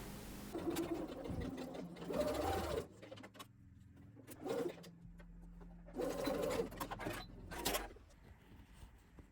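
A sewing machine stitches dress straps onto a neckline in several close, whirring bursts lasting a second or so each, separated by quiet gaps, with no talking.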